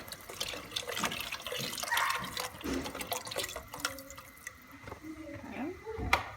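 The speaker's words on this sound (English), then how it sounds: "I'm going to add in 2 things of 32-ounce vegetable stock" Vegetable stock from 32-ounce cartons pours into a soup pot for Mexican tomato soup, a continuous close splashing, gurgling flow with a voice talking over it.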